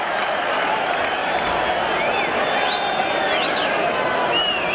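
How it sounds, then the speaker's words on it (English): Rugby league crowd at a Hull KR versus Leeds match applauding and cheering a penalty decision; a broad, steady roar of clapping and cheers from the stands, with whistles and commentary voices over it. "Some rapturous applause and cheers from the Robins faithful."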